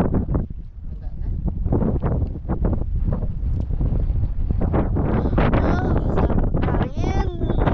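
Wind blows hard across an outdoor microphone near a boat, a constant loud buffeting rush with gusting bursts, and voices come through faintly beneath it.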